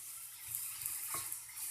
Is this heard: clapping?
no